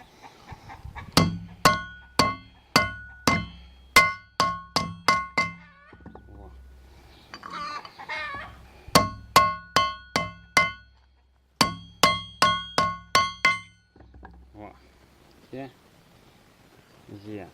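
A hammer strikes the edges of a trailer wheel disc shaped over a round metal bar, giving sharp ringing metallic blows in quick bursts of several hits separated by pauses, close and loud, with brief talk between the bursts.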